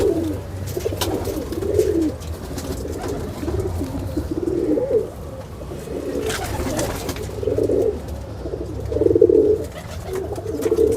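Teddy pigeons coo in a loft, with repeated soft, throaty bursts from several birds near the microphone, over a low steady background hum.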